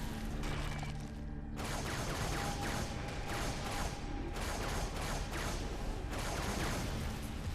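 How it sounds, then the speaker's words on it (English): Battle rifle gunfire in the video game Halo 3 on a Legendary campaign level, quick bursts of shots over dense, constant battle noise, with short lulls between the volleys. "I like to use the battle rifle for this because it's got that nice little spread"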